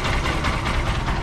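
A TVS Apache RTR 160 4V BS6 motorcycle engine, repaired after a ticking fault, runs in a short, steady, close-up drone.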